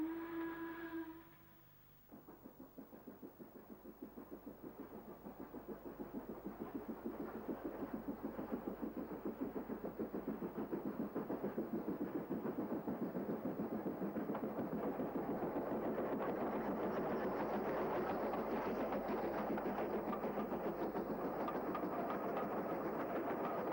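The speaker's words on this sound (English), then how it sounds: "North and southbound trains are seen on the gradient." Trains on a 1 in 103 gradient near Bersham Colliery, on the line descending towards Wrexham: a low engine rumble builds and then holds steady, with rhythmic wheel clatter that grows louder and stays prominent throughout.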